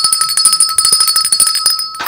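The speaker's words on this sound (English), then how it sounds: "And the bell goes crazy." A bell rings rapidly and continuously in a cafe setting, a bright metallic ringing with sustained tones, loud and frantic for about two seconds before cutting off.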